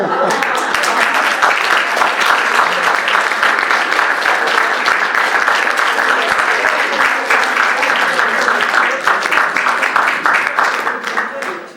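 Sustained applause from an audience at a U3A Box Hill AGM after a guest speaker's talk, dense, steady clapping filling the whole stretch at close range before tapering slightly at the end.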